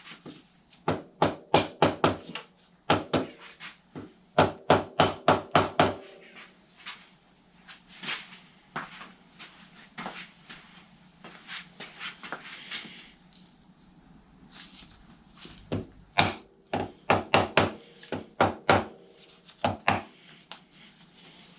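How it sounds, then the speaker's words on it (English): Repeated sharp metallic taps on a Kawasaki Zephyr 750 engine part during a valve clearance check, knocked in quick bursts of several strikes with short pauses between, close and fairly loud. "Never prise these off with screwdrivers, give it a little tap."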